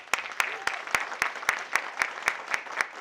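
An audience at a live storytelling show applauds, with one close, sharp clapper beating a steady, quick rhythm of about eleven claps over the softer applause of the crowd.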